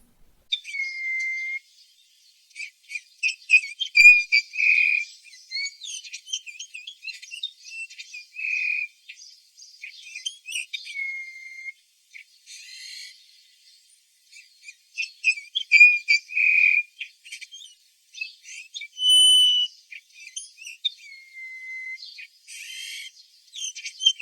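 Soft, fluting whistled calls of a bullfinch, a resident wintering bird, repeat in short phrases with gaps, mixed with other faint chirps, fairly near and clear with no talking.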